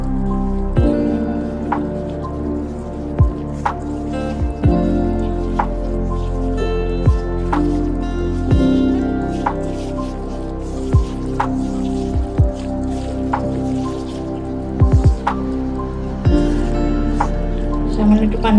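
Small fish are mixed by hand with salt and oil, giving wet squishing and squelching sounds in an uneven rhythm, close up, with a faint low hum beneath.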